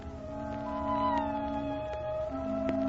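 A kitten's thin meowing in an old 1930s radio drama, soft, drawn-out wavering cries over a faint background hum and crackle of a vintage broadcast recording.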